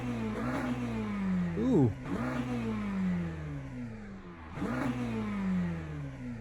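A McLaren GT3 race car engine revs in the Le Mans Ultimate sim, building slowly at first and then climbing through repeated rising sweeps with brief drops between, loud and close, with a short exclamation from a voice.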